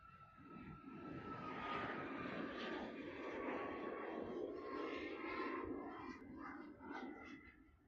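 A Boeing 737 jet roars on its takeoff run at Honolulu airport, a broad steady rumble and whine rising and holding at middle distance, with faint radio chatter beneath it.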